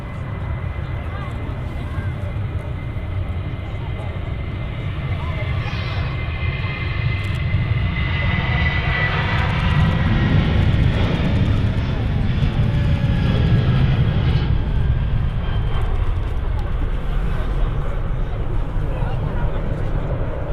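Airbus A330 jet rolling for takeoff at Manchester Airport, a loud sustained engine roar with a rising whine that builds and swells through the middle, with a voice talking over it.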